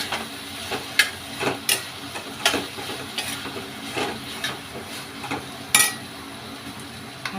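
A spoon clinks and scrapes repeatedly against a pan while Bhogi mixed bhaji vegetables are stirred over low steam, steady rhythmic taps close up with a soft sizzle beneath.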